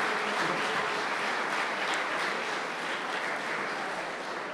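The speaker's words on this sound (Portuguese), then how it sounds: "Palmas para o Pedro." A crowd at a festival of folk singers and players in the Azores gives sustained applause, a steady wash of clapping held at an even level throughout.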